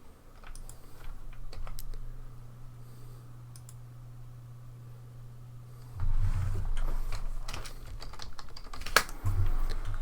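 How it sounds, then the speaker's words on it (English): Steady clicking of a computer keyboard as someone types while playing the online game EverQuest, with quiet background music underneath; the keystrokes grow louder and denser in the second half. "There was a lot of typing"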